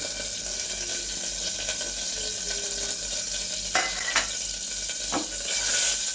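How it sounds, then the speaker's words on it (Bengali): Whole spices — cinnamon, clove, cardamom, black pepper and cumin, with a dried chilli and bay leaf — frying in hot oil for a dal tempering, a steady close sizzle with a few sharp clicks and pops near the end. "আর এখানে একটু দারচিনি লবঙ্গ এলাচ আর গোলমরিচ আর একটু জিরে এটা আমি তেলের মধ্যে দিয়ে দিলাম"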